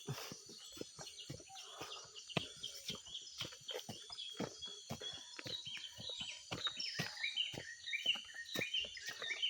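Birds chirp and call in a rubber plantation, with short, scattered tweets and whistles over a faint bed of insect buzzing, soft and somewhat distant.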